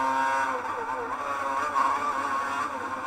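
Racing car engine in a driving game on the Monaco or Brands Hatch circuit: a steady, high buzzing drone that rises and falls slightly in pitch as the car accelerates, holding loud throughout.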